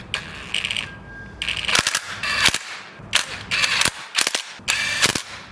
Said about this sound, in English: Then tighten the front fender with an M8 box wrench.